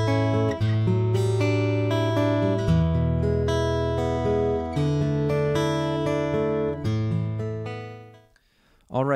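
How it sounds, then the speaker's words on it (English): Acoustic guitar heard through a SkySonic PRO-1 pickup with its microphone and magnetic elements blended, strummed and picked chords ringing out close and full before the playing stops abruptly in the last second. "followed by the sound of the mic and the magnetic blended together."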